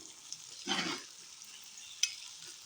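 Capsicum pieces stirred with a spoon in a frying pan while making chicken karahi; a soft, steady sizzle runs throughout with one brief louder scraping stir near the start and a sharp clink of the spoon later.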